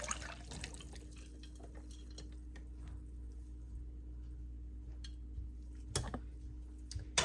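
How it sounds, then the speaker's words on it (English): Elderberry and honey syrup is strained from a pot, giving soft, sparse drips and trickles of liquid at close range against a quiet background hum, with a couple of brief handling clicks near the end. "So let's strain it out."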